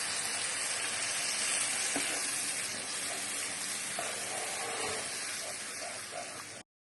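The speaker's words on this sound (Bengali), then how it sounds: "জল দিয়ে আবারও মশলাটাকে আমি একটু কষিয়ে নেব।" Spice paste for a mourola fish curry fries with a splash of water, hissing and sputtering in a close, even sizzle with a few soft stirring knocks before it cuts off abruptly.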